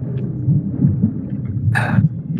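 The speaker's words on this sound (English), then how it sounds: "Storm over there." A thunderstorm in Sea of Thieves sends a low rolling rumble through the whole moment, with a brief brighter crackle partway through.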